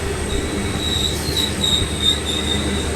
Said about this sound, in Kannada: ನಾವು ಡಿಪಾರ್ಚರ್ ಆಗ್ತಾ ಇದ್ದೀವಿ, ಆ ಟ್ರೈನು ಹೋಗ್ತಾ ಇದೆ